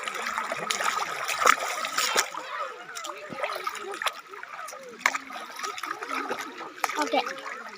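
Feet wade through shallow stream water on an Achankovil trip, giving uneven splashes and sloshing trickles close by, with voices talking over the water.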